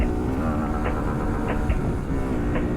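A car running with its clutch slipping or dropping into a false neutral, a loud, close, continuous engine drone and rumble with a steady low hum and faint periodic knocks throughout.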